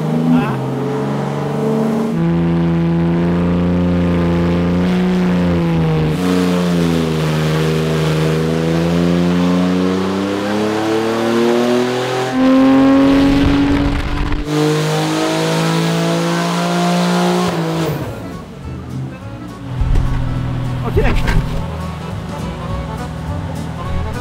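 A Porsche 992 Turbo S fitted with a Ferrita Powerpack tuned to 750 hp revs and accelerates hard. Its engine note climbs and falls in loud, sweeping pulls close by, with voices faintly underneath.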